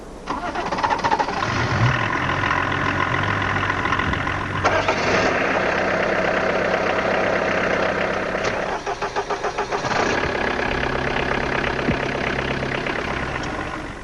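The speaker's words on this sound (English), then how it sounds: "The early morning start-up, the crackle of the cold engine and the cloud of black smoke it emits." A cold 1993 diesel car engine cranks and fires in the early morning, settling into a loud, rough, clattering idle with knocking, close and continuous.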